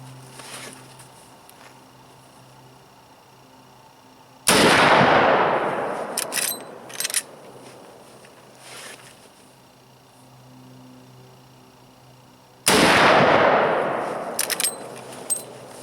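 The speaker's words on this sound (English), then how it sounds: "So I'm just going to fire 2 rounds." Two loud rifle shots from a Marlin 45-70 Guide Gun fired outdoors several seconds apart, each a sharp blast with a long rolling echo trailing off.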